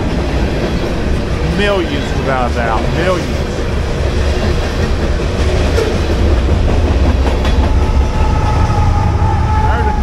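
Long freight train rolling past an abandoned Southern Railway depot in Limestone, Tennessee, with a pair of engines mid-consist; a steady, loud rumble and rail clatter fills the whole stretch while someone talks over it.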